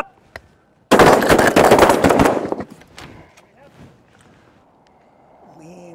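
Shotguns at an outdoor shooting class, fired in a fast, loud volley of overlapping blasts lasting about a second and a half, then a fading echo. Faint voices follow.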